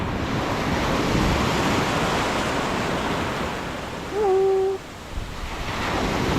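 Surf rolling onto a Philippine shoreline during shore casting, a steady broad wash of breaking waves close by, with a brief tonal whistle-like sound rising over it near the end.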